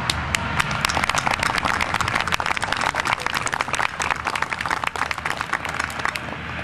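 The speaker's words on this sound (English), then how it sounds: "I think maybe a round of applause is in order." A room of colleagues applauds retirees at a Mettler Toledo retirement event in Spartanburg, dense loud clapping with sharp individual hand strikes standing out from a sustained crowd wash, continuous for several seconds.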